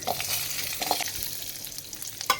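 Garlic and small onions sautéing in a pan, a steady close sizzle with a few soft stirring scrapes and brief clinks, no voices.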